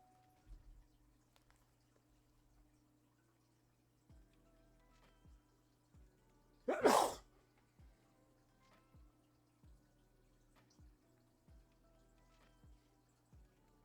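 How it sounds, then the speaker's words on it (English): A single sudden, loud sneeze bursts out of an otherwise quiet room, set against faint, regular ticking and dripping sounds. "That was a good sneeze."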